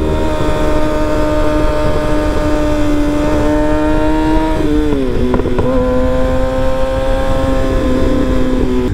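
A Kawasaki ZX6R motorcycle being ridden gives a steady, loud engine drone. Its pitch holds, dips with a brief shift around the middle, then settles, with no talking.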